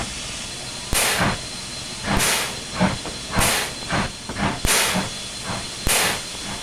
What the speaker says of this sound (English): But you can hear that noticeable pop at the beginning of the pump sound,